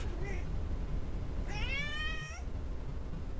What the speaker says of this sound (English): Hi, loud cat.